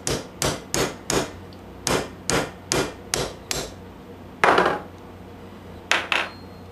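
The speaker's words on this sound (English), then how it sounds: "I hammered the pin out. And I'm going to do that with the other side now." A hammer drives a pin out of a Corvette chassis piece clamped in a vise, ringing in about a dozen sharp metallic strikes in an uneven rhythm, close and loud.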